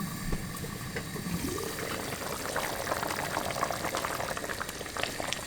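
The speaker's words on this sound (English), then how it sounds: "As you can see, everything has come to a boil." Keema aloo mattar of minced meat, potatoes and peas boils hard in a pot over high heat, with steady, dense bubbling and popping heard close up and continuous throughout, with no talking.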